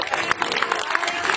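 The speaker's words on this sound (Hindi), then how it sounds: "सो सारे तालियां बजा दो" An audience at a religious gathering claps together in a steady, moderately loud patter of applause.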